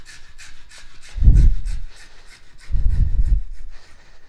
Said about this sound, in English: So over my knee again, taking my junior hacksaw, care now to try and get it as square as possible.